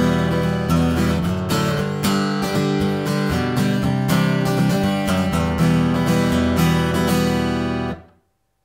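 Acoustic guitar strums the verse of a song, with full chords in an even, driving rhythm, close and loud. The strumming runs steadily for about eight seconds before stopping, and no voices are heard.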